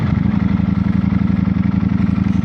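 Ducati Streetfighter V4S motorcycle engine idling close by, a loud steady low throb with a fast even pulsing rhythm and mechanical clatter on top, no voices.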